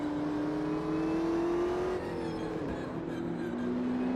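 A McLaren 720S GT3 race car engine in the AMS2 sim at the Nurburgring GP circuit climbs steadily in pitch under throttle, dips at a shift, then pulls again, loud and close from the cockpit.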